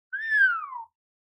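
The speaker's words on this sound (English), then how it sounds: "I'm trying to whistle there" A single person whistles one clear, sliding note that starts high and glides steadily downward, lasting under a second, close and moderately loud in an otherwise silent room.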